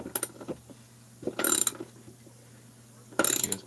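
Ratcheting tool clicks in short bursts as a chainsaw crankshaft is drawn toward the PTO side into its bearing, three separate bursts of rapid mechanical clatter with quiet pauses between.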